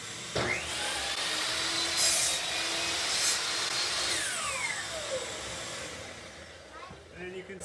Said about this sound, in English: let's turn on the vacuum and cut.